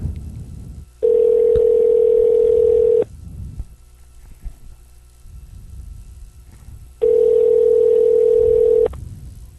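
Two long, steady ringback tones on a phone line, each lasting about two seconds, separated by a pause of faint background noise.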